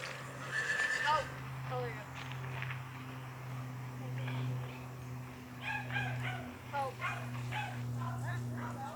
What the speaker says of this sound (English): Now the dogs are kind of freaking them out.